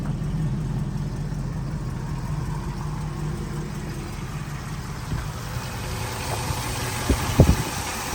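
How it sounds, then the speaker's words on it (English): A 1968 Shelby GT350 engine idling low and smooth, steady and quiet throughout, with a couple of faint clicks near the end. "Engine sounds really good."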